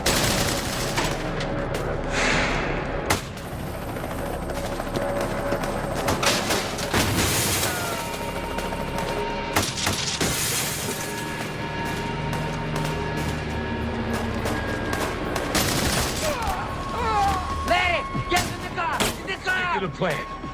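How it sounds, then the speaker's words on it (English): A gunfire shootout in a western movie, with repeated bursts of shots, booms and impacts spread over the scene alongside music and voices talking. "They're still shooting at us."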